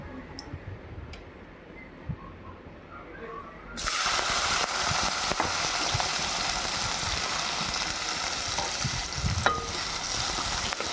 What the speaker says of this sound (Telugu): మనం శుభ్రం చేసుకున్న ఎండు బెత్తలను కూడా ఈ ఆయిల్లో వేసుకుని బాగా ఫ్రై చేసుకోవాలి